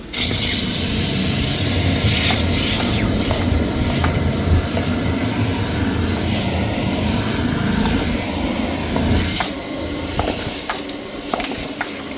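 A drain jetting machine runs at full power to clear a blockage, a loud, steady roaring wash of high-pressure water and engine noise that fills the whole stretch without pause, with no talk.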